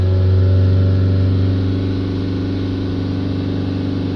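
A diesel car engine with a partly blocked particulate filter runs steadily at about 3,000 rpm, a loud, close, sustained drone with a strong low hum, and no voices over it.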